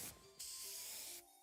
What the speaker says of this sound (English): One spray to victory, Fluffy Tail Hairspray.